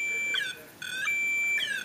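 A REM pod paranormal detector, grabbed in the hand, emits a shrill, piercing whistle tone that wavers and repeats in two or three bursts, loud and close, with no talking.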